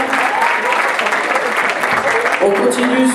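Audience applause at a live sketch comedy show, brisk dense clapping that carries on steadily, with some tonal sound and voices surfacing near the end.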